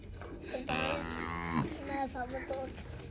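A cow, one of a pair of Jersey and Friesian-Jersey cross dairy cows in Pakistan, lets out a single long, loud moo close by, followed by softer snorts and grunts.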